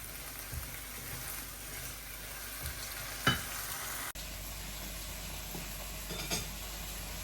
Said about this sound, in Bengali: মশলাটা ভালো করে কষায় নেই তারপরে মাছটা দিয়ে দিব